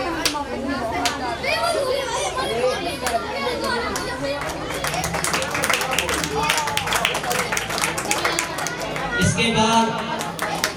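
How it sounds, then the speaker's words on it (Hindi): An audience at an Ambedkar Jayanti celebration claps in scattered, continuing bursts, mixed with lively children's chatter and a voice speaking over the crowd. "आप लोग तालियां बजाते रहिए"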